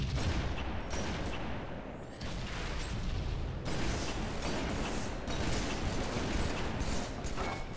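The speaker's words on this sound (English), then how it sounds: "I wasted all the bullets. I'm being shot." Dense bursts of video game gunfire from a Halo 3 hardcore duos match on PC, rapid automatic weapon fire and sharp shots cracking in clusters, loud and nearly continuous with mechanical clatter between volleys.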